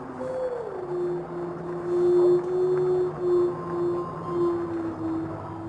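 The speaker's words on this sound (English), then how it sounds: "A lone wolf's howl pierces through their conversation" A lone wolf howls in the woods near Hinton, Canada: a long, steady, mournful note that slides down and then holds with slight wavers, carrying clearly over a quiet background.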